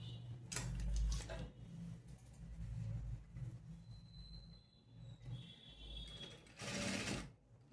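A sewing machine top stitches along the lining edge of a three-dart blouse, whirring in short bursts with pauses between, fairly quiet and close.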